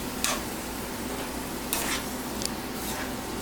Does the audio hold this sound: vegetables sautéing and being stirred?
yes